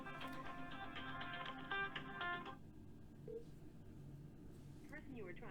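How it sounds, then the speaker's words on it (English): A desk telephone dials out to a cell phone number: a run of rapid tones, then a short gap and brief rising electronic blips, with a person talking faintly over it. "it's actually dialing my cell phone number"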